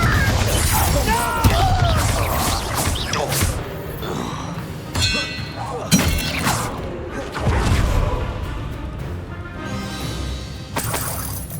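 Confringo blasting-spell explosions in Hogwarts Legacy, several sharp crashing bursts with shattering debris amid clanging combat effects, loud and close.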